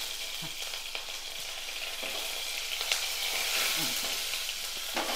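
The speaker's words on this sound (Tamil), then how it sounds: "இப்போ இது பொரியுது. இதில் பொரிஞ்சிருச்சு." Curry leaves and spices fry in hot oil for a chana dal chutney, giving a steady, close hiss and sizzle with occasional small crackles and pops.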